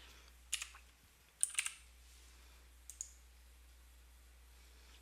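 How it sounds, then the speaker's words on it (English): Keys on a computer keyboard being typed to enter a code, heard as a few short bursts of clicks separated by pauses, quiet and close with no talking. "so I'm going to go ahead and type that in."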